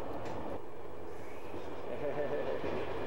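A train departing rolls along with a soft, continuous rumble and hiss, heard faintly from inside the carriage.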